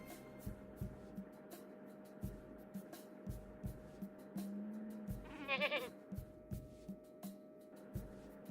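A single goat bleats in the middle of the adventure game Gabriel Knight: The Sins of the Fathers, a wavering cry standing out over a steady low hum and scattered soft thumps.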